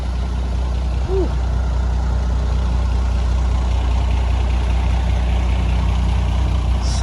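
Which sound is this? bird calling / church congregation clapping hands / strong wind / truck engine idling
truck engine idling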